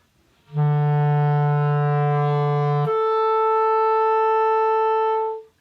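A clarinet sustains a low E, then, with the register key pressed, jumps abruptly to a B a twelfth above, both steady and clear, played alone.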